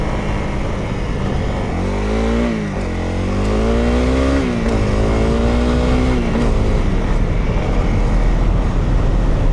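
A dual sport motorcycle engine hums steadily while riding off-road, rising and falling in pitch as it revs through gears, loud and close with wind noise and no talk.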